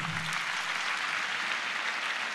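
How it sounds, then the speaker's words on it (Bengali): A school audience at an annual exhibition gives steady, dense applause after a students' drama performance, with continuous clapping that sounds fairly close and stays even for a couple of seconds. "আরেকবার জোরে হাততালি হোক।"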